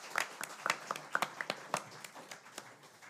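A conference audience at a nuclear power panel claps in a scattered, faint way. The sharp, separate hand claps come at an uneven pace and slowly thin out, with no voices over them.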